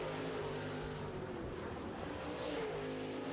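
Late model race cars roar steadily around a short oval track during heat races, a continuous loud engine drone with pitch shifting as cars pass, no talk.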